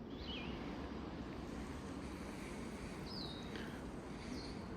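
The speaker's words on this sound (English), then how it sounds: "I know it's super windy." Steady roaring wind on a mountain ridge of the Benton MacKaye Trail, with constant low rumble buffeting the microphone, a few faint high chirps cutting through now and then.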